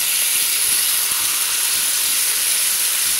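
Refried beans hit hot oil in a preheated pan, giving off a loud, steady, broadband hiss and sizzle that holds constant throughout, close and with no talk over it.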